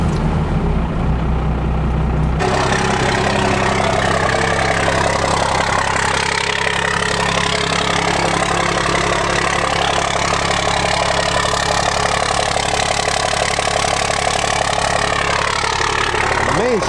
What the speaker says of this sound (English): Let's get this truck started up.